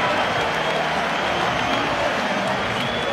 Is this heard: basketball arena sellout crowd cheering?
yes